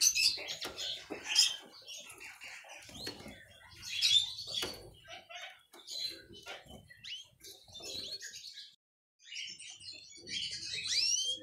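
Canary chicks give bursts of high, thin chirps and tweets close by, scattered irregularly with brief quiet gaps between them.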